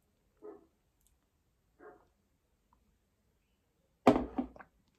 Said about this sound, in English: I can hear the dogs.